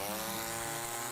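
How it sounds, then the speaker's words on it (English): A chainsaw engine runs at a steady high rev, a loud, dense, continuous buzz that holds without a break for just over a second, with no voices. "This is a chainsaw message for you."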